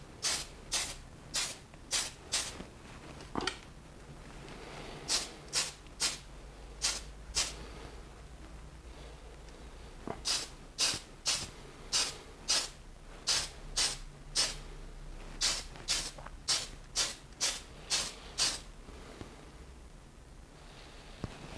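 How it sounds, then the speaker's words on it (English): Lacquer spray paint from an aerosol can coating parts of a Zvezda Kamaz K-5350 scale model, heard as repeated short hissing bursts in quick clusters, each about a second long, with brief pauses between groups. "Yes, you can apply this lacquer type spray."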